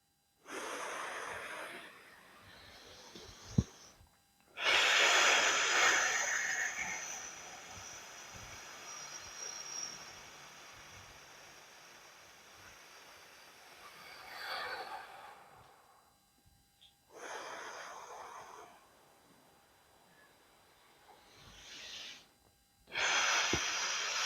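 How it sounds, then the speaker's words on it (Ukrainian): Slow pranayama breathing during a yoga practice, several rounds of a short inhale followed by a long, drawn-out exhale through the throat, close and breathy with quiet pauses between breaths. "Робимо 5 рахунків вдих, 10 рахунків видих."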